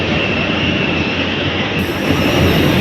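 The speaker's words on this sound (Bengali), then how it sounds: "এখন এই ট্রেনটাতে উঠবো আমরা।" A passenger train boarded on the way to a first flight rumbles steadily and loudly throughout, with a broad rolling roar and a faint wheel squeal high above it.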